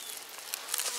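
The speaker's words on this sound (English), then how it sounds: "some bees on it right now" A faint, brief, steady hum of honeybees crawling on a beehive frame holding capped brood and a capped queen cell, with no talking.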